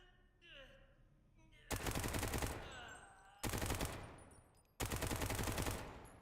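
A PKM machine gun fires at a range in the video game Active Matter: three sustained, loud bursts of rapid automatic fire, each stopping abruptly, with a quieter mechanical handling sound before the first burst.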